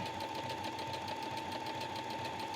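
A sewing machine triple-stitches a dress hem, a steady, fairly quiet, close mechanical whir with a rapid repeating pulse and a constant tone.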